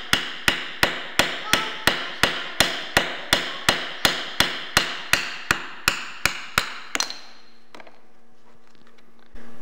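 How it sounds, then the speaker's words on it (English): A plastic hammer knocks a fairing part loose on a GASGAS 700 motorcycle, about seventeen sharp evenly spaced blows close up, then a few faint clicks and handling noises after the hammering stops. "Now take a plastic hammer, and you have to really use a bit of force"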